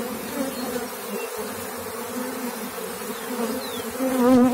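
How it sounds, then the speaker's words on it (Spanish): An arriving swarm of honey bees fills the air with a dense, continuous buzzing drone, steady and close throughout, with no voices. "Estamos esperando la llegada de un enjambre."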